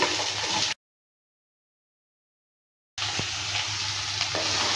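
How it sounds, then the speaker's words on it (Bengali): Capsicum, carrot, tomato and beans stir-fried in a pan, giving a steady close sizzle with light scraping, broken by a stretch of complete silence in the middle before the frying resumes. "সবজিটা দেওয়ার পর ভালো করে নেড়ে চেড়ে নিচ্ছি"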